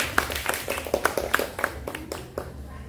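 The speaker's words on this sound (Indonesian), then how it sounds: "Tepuk tangan." Schoolchildren in an elementary school gymnastics class clap their hands, a moderately faint patter of scattered individual claps that thins out toward the end.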